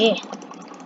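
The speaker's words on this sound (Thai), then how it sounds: "โอ้คลิกเมาส์นี่ คลิกเมาส์" Rapid, evenly spaced clicks come from a computer mouse during Blox Fruit gameplay, about ten quick taps in under a second, close and crisp, following a brief voice at the start.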